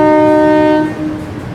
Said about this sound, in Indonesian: Wah, diapain tuh klaksonnya tuh? Kayaknya nih klaksonnya rusak deh.